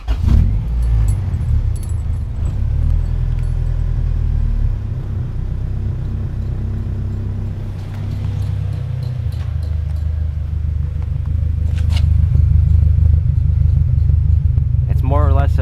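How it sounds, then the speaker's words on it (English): A 1998 Honda Civic engine idles hot with a steady low rumble, slightly uneven and close up, suffering from poor idle and sluggishness, with someone talking over it. "Here's how it runs hot idle."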